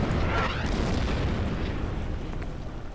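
Artillery shells burst in the Order of Battle: Rising Sun strategy game, a dense, rumbling wall of explosions that stays loud and constant throughout with no talk.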